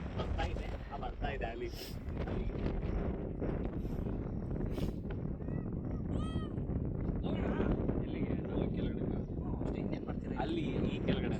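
Strong wind gusting outdoors at a forest resort in Chikmagalur, a steady broadband roar buffeting the microphone throughout, with people talking over it.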